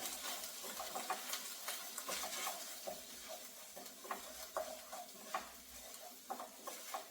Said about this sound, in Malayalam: ഇപ്പൊ ഇതൊന്ന് നന്നായിട്ട് നമുക്കൊന്ന് ഇളക്കി കൊടുക്കാം